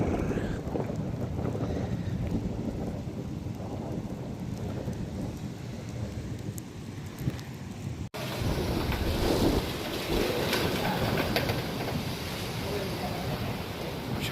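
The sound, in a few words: heavy rain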